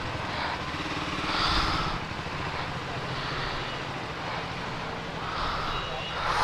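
A Triumph Scrambler motorcycle cruising along a highway toward Mysore, its engine a steady broadband drone mixed with rushing wind, loud and continuous throughout.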